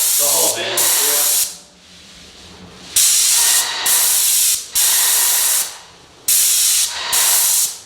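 Avanti 821 airless paint sprayer firing in loud hissing bursts of about a second each, separated by short pauses, with a voice heard briefly near the start.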